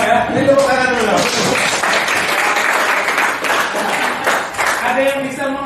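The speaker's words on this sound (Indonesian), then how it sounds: "Ini tepuk tangan dulu." Audience applause in a classroom coaching session, several seconds of dense clapping that swells and fades, with voices talking at the start and end.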